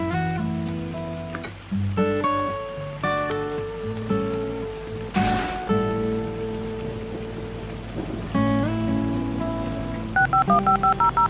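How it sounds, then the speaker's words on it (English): A home phone is dialed in the Roblox video game, with a quick run of short, evenly spaced keypad beeps near the end after a stretch of busy in-game background sound. "Call someone with your home phone."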